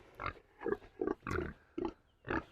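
Tamworth pigs on a farm give six short, throaty grunts in a loose, even rhythm, close by and moderately quiet, with no one talking.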